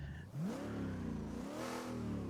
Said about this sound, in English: 5 litre Australian V8.